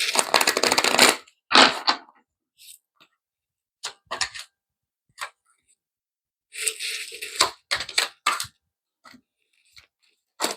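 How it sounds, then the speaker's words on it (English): A deck of tarot cards is shuffled in several quick, crisp riffling bursts separated by short silences, fairly close, with a person speaking between some of the bursts. "One more shuffle."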